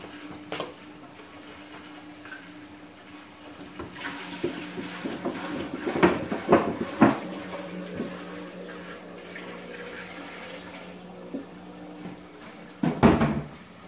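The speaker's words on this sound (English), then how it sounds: "I love dumping water to it like that." Water dumped by the gallon into an aquarium tank fitted with a 1-inch Durso overflow, a steady close splashing rush with louder gushing bursts midway and near the end, no talking.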